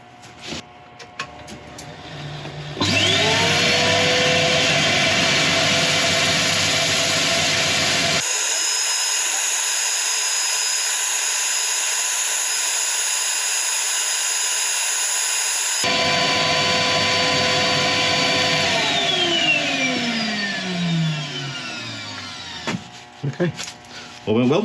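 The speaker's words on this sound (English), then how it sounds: "We'll sand this for a little bit and we'll put the finishes on." A turned wood piece spins on a lathe while being sanded, a steady loud whirring rub that runs for many seconds, with the motor's pitch rising at startup and winding down at the end.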